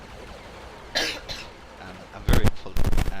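Two harsh, loud coughs burst out near the end, close to the microphone, after a brief snatch of someone speaking over quieter background sound.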